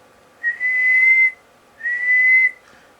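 Two sustained whistled notes into a microphone through a Browning 180 Business Band amplifier, each about a second long, separated by a short pause, clear and steady against a quiet background.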